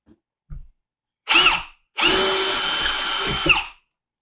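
A power drill drilling into a wall gives two short bursts, then runs in one sustained, loud whine for nearly two seconds before winding down, close by.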